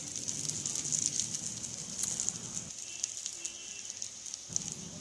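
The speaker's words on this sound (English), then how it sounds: "When the base become light golden, then flip and fry the other side." Yam tikki shallow-frying in a pan give off a steady, close hiss of sizzling oil with faint crackles and pops throughout, no voices present.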